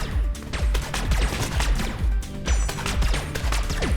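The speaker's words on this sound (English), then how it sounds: "It seems like this is just shooting a bunch of pretty low damage shots" Rapid bursts of low-damage weapon fire in Neon Abyss, a dense stream of sharp shots repeating steadily over a pounding game soundtrack, loud and continuous.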